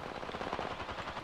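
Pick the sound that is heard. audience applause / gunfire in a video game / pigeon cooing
gunfire in a video game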